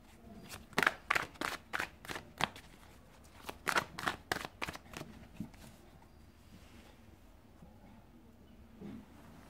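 Tarot cards are shuffled and drawn in a quick run of sharp riffling bursts, then fainter rustles and a soft handling sound close by in a quiet room.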